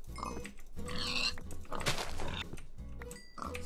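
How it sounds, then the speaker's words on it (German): Minecraft pigs grunt and oink in a series of close, rhythmic snorts that repeat in clusters over several seconds, with no voices. "Das sind Schweine."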